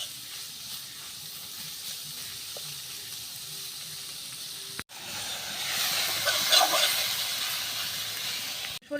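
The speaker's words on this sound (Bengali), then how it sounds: "এখন চান্দা মাছগুলো হাতে মেখে তো তেলের মধ্যে দিয়ে দিলাম" Chanda fish hit hot oil in a village kitchen, setting off a steady hiss that swells into a louder, bubbling sizzle partway through after a brief break, with no voices over it.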